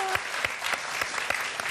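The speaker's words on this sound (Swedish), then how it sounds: "Ja, det är värt en applåd." Brief burst of applause from a small studio audience at a TV bingo lottery show, dense clapping with a few sharper claps standing out, at moderate volume.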